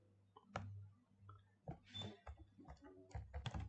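Typing on a computer keyboard, scattered clicks and short bursts of key presses at an irregular rhythm, close and fairly quiet.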